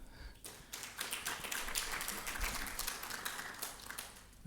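A morning conference audience applauds themselves at a government session, a steady wash of many hands clapping at moderate distance, fairly quiet and sustained for several seconds before tapering.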